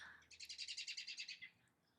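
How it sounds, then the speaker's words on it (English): A small bird at an RV park gives a quick run of about a dozen rapid, evenly spaced high chirps, close to the microphone and fairly soft, with a quiet background. "Sometimes I feel like this bird is watching me."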